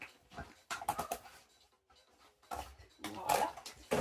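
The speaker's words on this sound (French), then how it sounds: "Alors désolé pour le chien qui aboie." A dog barks a few times indoors, in short bursts mixed with a person speaking nearby.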